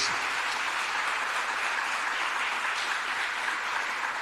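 A church congregation at a family worship service bursts into strong, sustained applause, a dense even roar of clapping heard alone without talk from start to finish.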